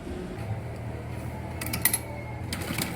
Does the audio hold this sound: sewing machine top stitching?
yes